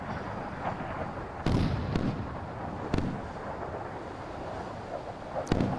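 Naval guns firing from a modern warship in the Sea Power naval combat game, with several sharp, booming reports at irregular intervals over a steady low rumble of battle ambience.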